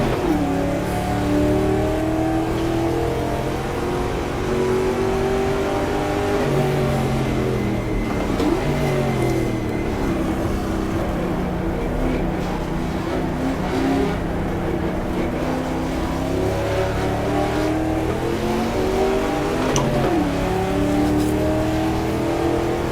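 Engine of a 1966 Ford race car in the GTR2 racing game at Daytona, revving loud and close through repeated throttle blips, rising and falling as it drops down through the gears.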